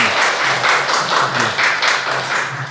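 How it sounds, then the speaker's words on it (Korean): A room full of people applauds steadily, a dense, even wash of clapping with no voices over it. "박수 좀 부탁드립니다"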